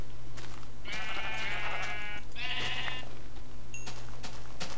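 Two drawn-out wavering bleats from a black sheep in Minecraft, fairly close and clear over a steady low background hum, with a few soft clicks and taps around them.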